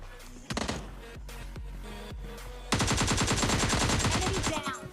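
Gunfire in a battle royale shooter match rings out as a few single shots and then a long rapid automatic burst, loud and close, with no speech over it.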